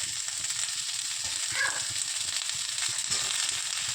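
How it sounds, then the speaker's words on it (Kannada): Onion and tomato frying in oil in a pan give a soft, steady sizzle with faint stirring, a low continuous hiss throughout. "ಆಯಿಲು ಆನಿಯನ್ ಸ್ವಲ್ಪ ಫ್ರೈ ಆದಮೇಲೆ ಅದಕ್ಕೆ ಟೊಮೊಟೊ ಆ್ಯಡ್ ಮಾಡ್ಕೊಳ್ತಾಯಿದ್ದೀನಿ."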